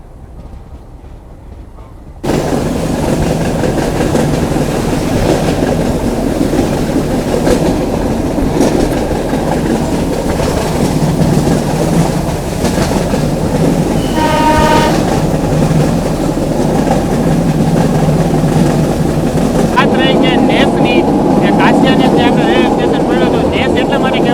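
A meter gauge train on the Junagadh to Veraval line rumbles steadily with a loud, continuous rolling roar and clatter from inside the carriage, with a brief horn partway through and voices heard faintly under the noise.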